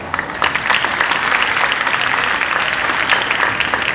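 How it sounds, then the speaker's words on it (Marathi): Crowd applause in Shirdi for Thailand's education minister: dense, loud clapping from many people starting abruptly and continuing steadily throughout. "जोरदार टाळ्या वाजूया"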